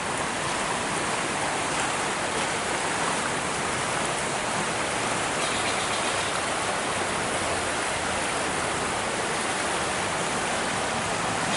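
Rain-swollen creek rushing steadily, a loud, dense, unbroken roar of flowing water close by with no voices or other sounds over it.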